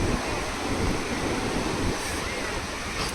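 Strong wind at Digha sea beach in the evening, a steady loud roar with blustering microphone buffeting and surf washing underneath, continuous throughout.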